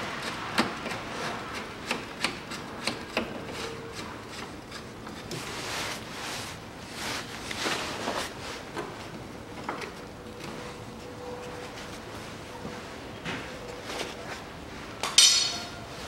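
Nuts being unscrewed from the front strut of a 2005 Toyota Passo, a series of quiet metallic clicks, clinks and scraping rubs from close by, with a sharper clink near the end.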